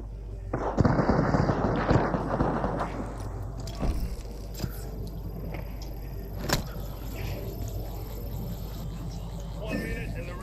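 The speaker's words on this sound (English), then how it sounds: "Why are they shooting me?" Rapid bursts of gunfire in the Apex Legends shooter on PS5 crack sharply through a busy mix of game noise, with a voice talking at times underneath.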